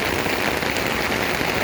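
Rain falling outdoors in a riverside park in Victoria, a dense, steady hiss of drops hitting surfaces close by, loud and continuous with no voices.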